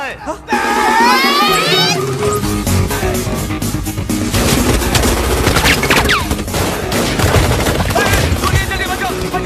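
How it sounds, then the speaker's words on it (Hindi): Rapid bursts of gunfire crackle through a comedy scene, loud overlapping shots and booms in quick succession, mixed with frantic shouting voices and what sounds like a crowd in panic. "गोलियां चल रही, बचाओ! गोलियां चल रही है भाई"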